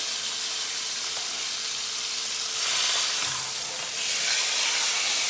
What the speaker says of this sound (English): So then I'm going to just tip it up on its side, sear that side.